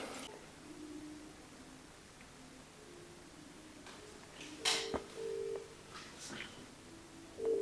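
A mobile phone dials out for a cold call to a plumbing business: a quiet, steady ringback tone pulses in short beeps, with a few sharper electronic tones near the end.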